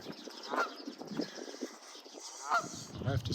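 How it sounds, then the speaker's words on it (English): A goose perched on a creek railing during a spring walk gives two short, fairly distant honks against soft outdoor background noise. "Goose is sitting on the railing there."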